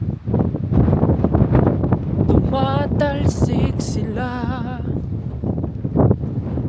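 Heavy, blustery wind buffets the microphone throughout at Pechanga, with a voice speaking briefly partway through.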